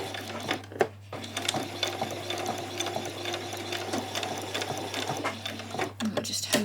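A sewing machine runs steadily and close by, its needle mechanism humming and clattering as it sews a holding stitch across the top of a continuous placket on a skirt.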